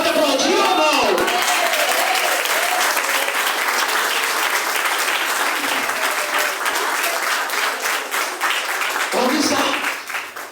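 A church congregation breaks into sustained, dense applause that carries on for about ten seconds before tapering off at the end.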